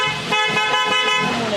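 A G-Star car horn blares in a loud, sustained honk with a bright, layered tone, pulsing slightly as it sounds close by with no talk over it.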